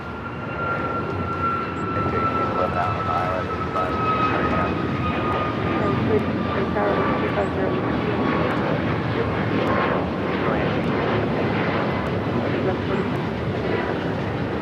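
A Hawaiian Airlines Airbus A330 on arrival at LAX from Honolulu, a sustained loud jet roar with a slowly falling whine, constant throughout with light background talk.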